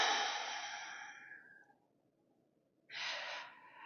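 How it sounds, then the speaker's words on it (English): A long, slow exhale during a yoga vinyasa flow fades out gradually, followed after a quiet pause by another short, soft breath. The breathing is close and gentle, with no talking. "Another deep breath into your belly. And a long, slow breath out."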